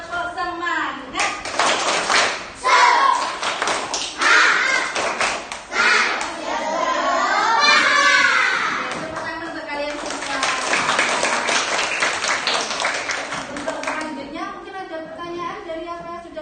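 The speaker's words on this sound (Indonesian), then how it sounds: "kita tepuk semangat dulu. Tepuk semangat." Schoolchildren in a classroom perform a rhythmic clapping chant, sharp hand claps in patterned bursts mixed with loud group singing and shouting voices throughout.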